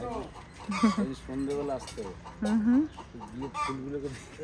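Chickens cluck in repeated short bursts on a farm that also keeps cows and goats, close and fairly loud, with people talking nearby.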